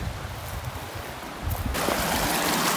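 A mountain stream running down from Laguna Lola in Tierra del Fuego rushes steadily nearby, its broad hiss growing louder partway through.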